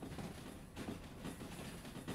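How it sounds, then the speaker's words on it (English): Long freight train from the game Derail Valley rolling steadily, a continuous close rumble of wagons with faint rhythmic clatter pulsing throughout. "Dear God, this is a long train."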